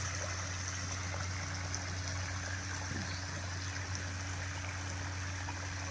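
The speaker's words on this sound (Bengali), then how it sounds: "এপাশে সারাক্ষণ জলের আওয়াজ।" Water flows steadily at a resort among trees, a constant low rushing wash that carries on without a break and sits over a faint hum.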